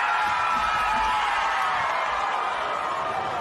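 Steady crowd roar at a Little League World Series baseball game in 2022, a dense continuous wash of cheering voices with no breaks, fairly loud and even throughout.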